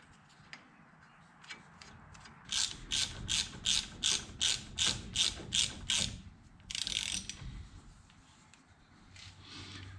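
Ratchet snugging a tie rod nut on a 2005 Ford Ranger front spindle: a steady run of about a dozen crisp clicks, then a brief rougher burst, close and moderately loud.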